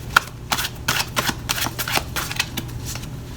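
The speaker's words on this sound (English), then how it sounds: "We just shuffle these around and lay these out for you." Tarot cards are shuffled by hand in quick, crisp riffling bursts, close and fairly loud, with short pauses between handfuls.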